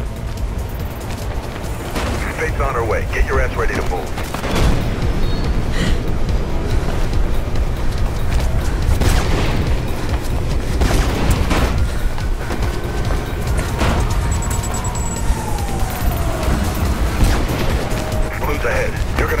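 Heavy gunfire and explosive booms in the game Mirror's Edge, bursts scattered across a busy battle scene, with a voice giving commands over the action.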